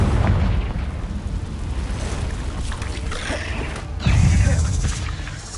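Confringo blasting spell explosions in Hogwarts Legacy inside a cave, loud rumbling booms with heavy low roar throughout and a fresh blast bursting in near the end.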